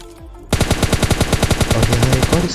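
Rapid automatic gunfire from M416 and AKM rifles in the mobile shooter PUBG Mobile Lite opens after a brief lull, with loud, evenly spaced shots running steadily to the end.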